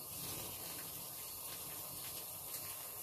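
Cooked pasta water poured out of a window in a steady, continuous gush of splashing liquid, close and fairly loud, with no pauses across the pour.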